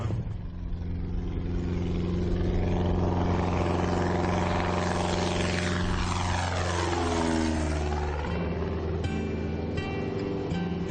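Propeller airplane in steady flight over the green fields of Cantal near Saint-Flour, a loud continuous engine drone with a sweeping, shifting pitch throughout, no voices.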